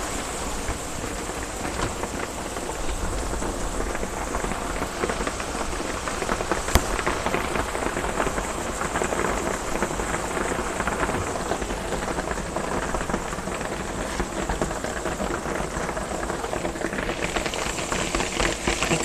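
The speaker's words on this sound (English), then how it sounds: "You can see the rain outside." Steady rain pours outside a porch during a Carolinas thunderstorm, a continuous even hiss with no talk.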